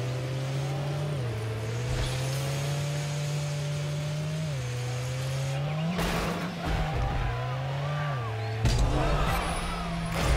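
A car drifting, its engine note rising and falling through gear shifts while tires squeal in long sustained wails, with bursts of louder skidding toward the end.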